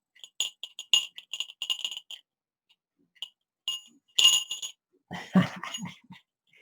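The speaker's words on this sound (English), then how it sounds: "Give it a rattle. The bell," A small metal bell, the medieval-style kind carried by period infantry reenactors, rattles in quick jingling bursts, pauses, then jingles again up close before a short stretch of indistinct voice.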